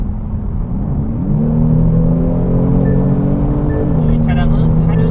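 Kia Stinger 3.3T four-wheel-drive sports sedan, powered by an engine from large luxury sedans, accelerating on the road: a steady engine drone rises in pitch and holds, with road rumble throughout.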